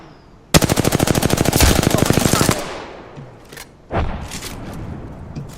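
Rapid automatic gunfire in a ranked solo shooter video game, a loud sustained burst of closely spaced shots lasting about two seconds, followed by quieter thuds and a short boom.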